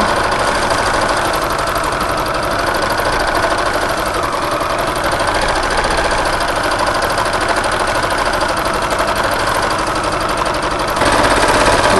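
A sewing machine with feed dogs dropped runs steadily in free-motion embellishment, stitching metallic thread along the outlines of a blossom on a couture top, a loud, continuous mechanical whir with a fast, even rhythm throughout.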